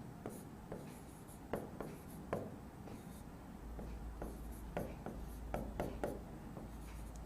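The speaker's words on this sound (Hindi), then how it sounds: "मैं नीचे लिखता हूं" Chalk or marker writes on a board in a classroom, making quiet scratchy strokes and taps in an irregular rhythm against a low background hum.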